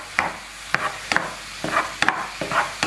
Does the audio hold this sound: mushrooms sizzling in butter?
yes